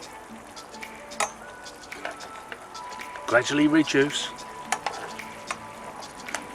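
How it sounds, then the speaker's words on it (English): Honey mustard chicken sizzles and crackles steadily in a hot pan, with occasional stirring clinks and a brief spoken remark partway through. "We can let this sizzle and bubble away,"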